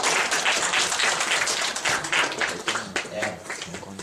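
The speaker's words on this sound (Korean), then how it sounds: "박수" An audience at a worship gathering claps in a scattered, fairly quiet round of applause, with a voice murmuring in the latter part as the clapping thins out.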